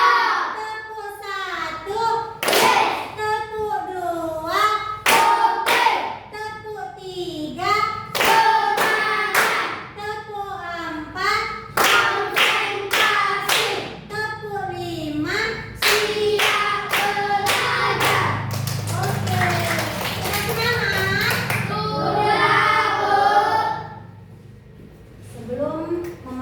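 Grade 4 pupils and their teacher in an elementary classroom play a clapping call-and-response game, with sharp rhythmic bursts of group hand claps alternating with chanted voices and the teacher speaking between rounds.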